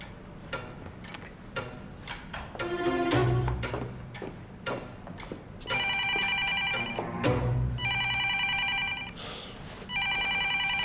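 A telephone rings in an indoor drama scene, its repeated electronic ring coming in steady bursts over a ticking clock and faint background sounds.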